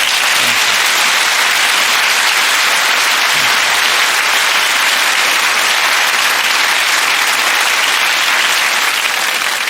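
A studio audience claps loudly through a long, dense, unbroken round of applause that holds at an even level from start to finish, with no voices rising above it.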